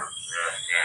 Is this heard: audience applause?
no